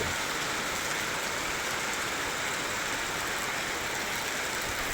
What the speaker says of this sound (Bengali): নতুন হাট মঙ্গলকোটে এখন প্রচণ্ড হারে বৃষ্টি হচ্ছে।